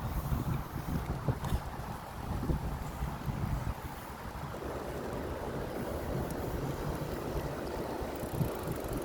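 Steady wind rushes and buffets the microphone, blended with a wash of water or waves, with no voices throughout.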